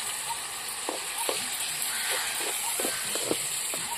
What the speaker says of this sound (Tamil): தக்காளி இந்த மாதிரி நல்லா வதக்கிக்கணும்.